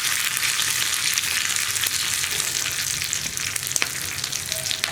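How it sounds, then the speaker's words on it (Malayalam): Dried red chillies and curry leaves frying in hot oil for a green gram coconut milk curry, a dense continuous sizzle nearby with a few faint clicks of stirring. "ഇനി വറ്റൽമുളകും കറിവേപ്പിലയും ഒക്കെ ഒന്ന് കുക്കായി വരുന്നത് വരെ ഒന്നുകൂടി ഒന്ന് ഇളക്കുക."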